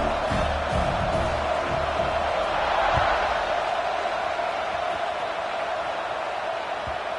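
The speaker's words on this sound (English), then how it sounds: "this crowd now ready to get behind them" A football stadium crowd roars at kickoff, a steady, broad wash of distant cheering and murmuring that swells slightly midway and then holds.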